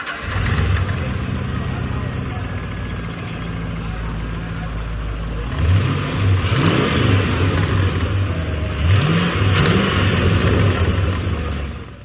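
A custom-built car's engine fires up for the first time inside a workshop, settling into a steady idle before two sets of quick revving bursts rise and fall, loud and close, with a voice heard faintly underneath.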